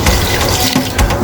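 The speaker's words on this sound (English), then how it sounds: "I'm just going to fill the pan with some water, just enough to cover the ingredients." Tap water runs into a cooking pan for base gravy ingredients, a short, loud, close splashing gush.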